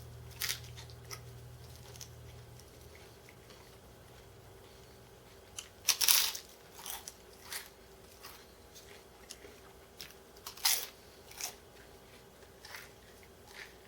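Someone bites and chews a crunchy vegan pita bread pizza up close, with a few sharp crackling crunches at spaced moments and softer chewing between them over a quiet background.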